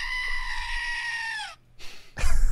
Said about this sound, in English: All right, Tim, can I get another goat scream?